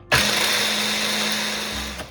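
A kitchen blender whirs loudly and steadily as it grinds freshly rinsed Douglas fir pine needles for shortbread, starting abruptly and running close and alone for about two seconds before it cuts off.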